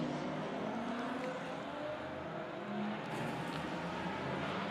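A dense roar of many GT4 race car engines accelerating together at Hockenheim, loud and continuous, rising and surging as the pack pulls away.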